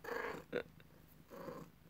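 A cat purrs beside a computer, two short bursts of rough, buzzing vibration close to the microphone, separated by a brief pause and a faint click, fairly quiet overall.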